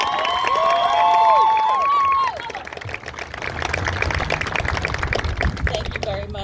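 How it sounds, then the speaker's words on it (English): Graduation-style crowd at an 8th grade promotion ceremony bursts into applause and cheering, with whoops and shouted voices rising over clapping; an earlier stretch carries a voice or tonal sound before the clapping and cheering build and continue loudly. "So she really deserves a round of applause."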